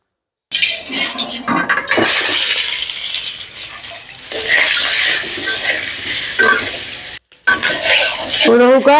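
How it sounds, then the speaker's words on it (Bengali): Eggs sizzle as they fry in a pan with a little turmeric and salt. Loud, continuous frying noise with bursts of stirring and scraping, broken by a brief gap near the end. "এখন আমি ডিম গুনতারে বাজিলিম।"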